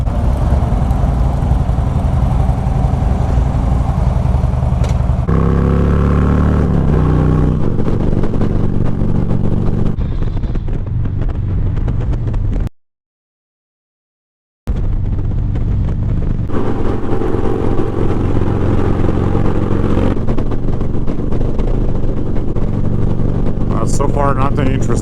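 Motorcycles ride by on a Lake Michigan circle tour route, among them Harleys, a Triumph, a Sportster trike and a BMW. The engines rumble loudly and continuously up close, with a brief dropout midway, and talk sits over the engine noise.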